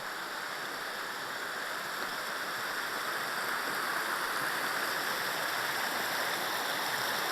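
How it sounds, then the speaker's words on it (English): A small creek flows steadily over a hiking trail crossing in wet-season northwest Oregon, its close, constant rushing wash filling the whole stretch without a break. "this is that cute little creek crossing that Mark put together."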